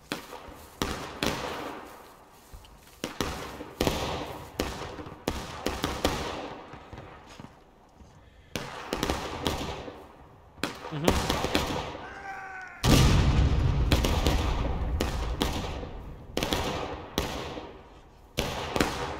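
Civil War cannon artillery in War of Rights fires repeatedly: loud booming blasts with long rumbling tails, overlapping with distant gunfire, followed by a heavy sustained roar near the end.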